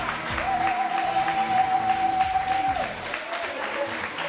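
Studio audience applause from a French television show, a broad steady wash of clapping lasting a few seconds with a sustained tone and some voices running underneath.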